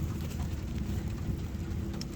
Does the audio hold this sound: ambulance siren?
no